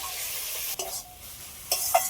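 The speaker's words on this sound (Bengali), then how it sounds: "এবার সিদ্ধ করে রাখা আলু আর শাকটা দিয়ে দিচ্ছি।" Boiled potatoes and greens hit a hot pan and are stirred, a sizzling fry broken by two scraping, clattering stirs of a spatula against the pan.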